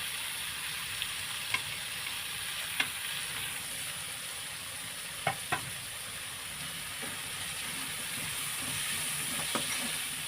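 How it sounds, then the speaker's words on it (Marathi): Tomatoes fry in oil in a pan on a home stove, with a soft, steady sizzle and a few sharp clicks of a spoon stirring. No voices are heard. "आता टमाटरसुद्धा तेलामध्ये परतून घ्यायचं आणि शिजून घ्यायचं व्यवस्थित"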